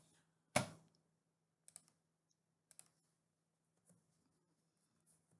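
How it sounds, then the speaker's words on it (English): Computer keyboard key being pressed, one sharp click near the start followed by a few fainter, sparse taps and clicks in a quiet room. "So I'm going to hit F12 on the keyboard"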